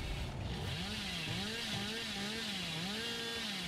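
The Hillbilly's chainsaw in the game Dead by Daylight revs repeatedly, its buzzing pitch swinging up and down in rhythmic waves over a steady background drone, at moderate volume with no voices.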